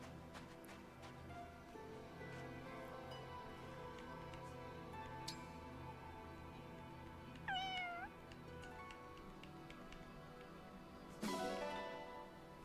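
A cat in the game Fire Emblem Engage meows twice, each a short rising-and-falling call, clear over a steady bed of game music and faint ticking.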